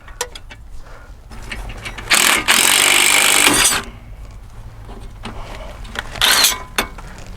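A power tool at a junkyard works to free a car tie rod in short bursts, two loud sustained runs of a few seconds each amid lighter clicks and rattles, close and without talk.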